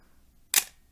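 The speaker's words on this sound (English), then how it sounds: "I've just wound this on, so I should be able to demonstrate the shutter." The metal focal-plane shutter of a Praktica MTL3 film SLR fires once, a single sharp close mechanical snap against a quiet room.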